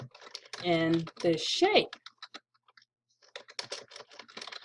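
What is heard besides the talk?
typing text on a computer keyboard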